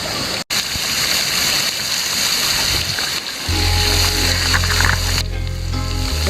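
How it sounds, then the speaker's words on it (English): A waterfall roars as a loud, steady broadband rush of falling water, close and continuous, with a low engine-like drone joining partway through. "Look at this cool waterfall."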